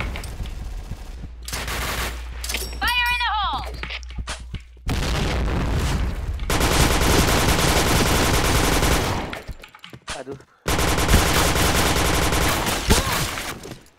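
Gunfire in the shooter game Point Blank: dense automatic bursts and rapid single shots, loud and close, broken by short silences and a brief synthetic effect sweep early on.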